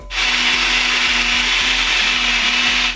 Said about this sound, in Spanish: Esto vamos a taparlo y vamos a licuar.